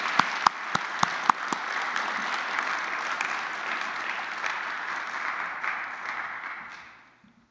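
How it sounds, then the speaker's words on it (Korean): A church congregation at a chapel service breaks into sustained, dense applause of celebration and encouragement, opening with a few sharp claps, holding steady, then tapering off to quiet. "우리 다 같이 한번 크게 우리 모두를 위한 축하와 격려의 박수를 부탁드립니다"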